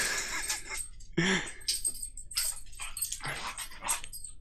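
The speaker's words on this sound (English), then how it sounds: "So that's why the dogs are going crazy." Several household dogs bark, yip and whimper excitedly indoors in short irregular bursts, fairly close and moderately loud.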